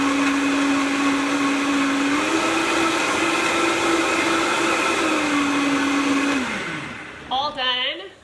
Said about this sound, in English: if you need to close your ears for the blender part, go ahead and do that. It's a loud noise.